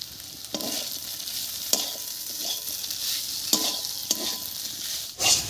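A chicken and carrot mixture with garam masala powder is stirred in a frying pan, a steady sizzle broken by a handful of scraping spatula strokes, close and alone.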